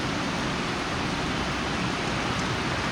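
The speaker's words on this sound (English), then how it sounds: "It's raining heavily here." Heavy rain makes a loud, constant hiss of broadband noise that stays unbroken and even from start to finish.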